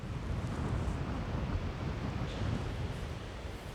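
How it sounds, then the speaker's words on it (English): Strong gusty wind buffets the microphone outdoors at a fishing spot, a loud broadband roar that stays steady with slight surges throughout, no voices. "That wind's really got up suddenly."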